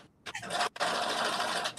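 A sewing machine pad stitching a piece of a coat, running in a short burst, then pausing briefly and whirring steadily close by for about a second.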